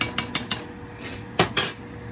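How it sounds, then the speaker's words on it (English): A spoon clanks against a pot of black-eyed peas and green bell peppers as it is stirred, giving a quick run of four metallic knocks, a pause, then two more close, sharp strikes. "we're gonna go ahead and stir this up a little bit"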